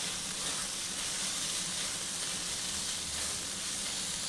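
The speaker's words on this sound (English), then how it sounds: "See, it's sizzling away." Steady, close sizzling of meat frying in hot fat, a continuous crackling hiss with no talk.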